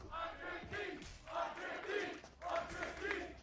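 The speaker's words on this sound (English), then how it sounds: "You can hear the crowd trying to will the defensive side to a fifth" A live esports arena crowd at a 100 Thieves versus Leviatán Americas League match on the Lotus map roars in rising, falling swells, sustained and moderately distant.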